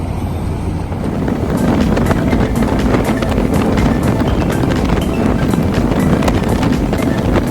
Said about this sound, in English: I love the Verados and the supercharger, and all the noise they make when you get going up on speed is awesome.